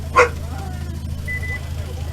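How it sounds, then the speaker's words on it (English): Dog named Leisure Kings barking at an outdoor sports field event, a single sharp bark early on, fairly distant and partly masked by steady low rumble, crowd noise and talk. "that's Leisure Kings you hear barking in the background"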